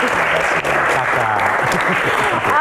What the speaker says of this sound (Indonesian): Tepuk tangan sekali lagi untuk Kla.